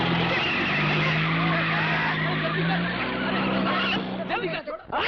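A pushed car in a Bollywood movie scene starts and drives off, a loud engine roar with tire skidding and squeal that rises and then breaks up, while people shout over it.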